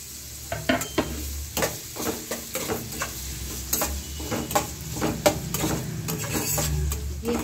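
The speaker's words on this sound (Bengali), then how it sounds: "আমি পেঁয়াজটাকে কুচিয়ে রেখেছি, দিয়ে দিলাম," Chopped onions sizzle in a pan for a potato curry sandwich, with repeated scraping and clinking strokes of a spoon stirring them at a steady, uneven rhythm.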